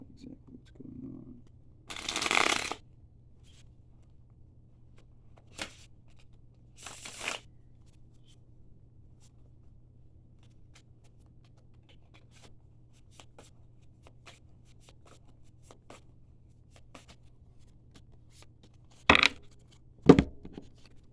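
Tarot cards being shuffled for clarifier draws, a few short papery riffles and slaps separated by long quiet gaps, close and moderately loud against a low steady hum.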